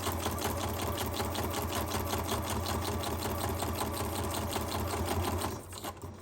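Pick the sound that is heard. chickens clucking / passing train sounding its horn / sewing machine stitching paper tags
sewing machine stitching paper tags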